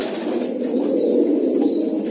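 Kept pigeons coo and flap their wings, making a dense, continuous, rustling murmur of soft coos and wingbeats that sounds close and fairly loud, with no voices.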